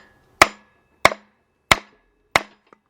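Four sharp, evenly spaced hammer blows strike a part during a partial engine rebuild of a 2003 Jeep Liberty Sport 3.7. Each impact rings briefly and decays, and the blows are loud and close with a faint tap after the last.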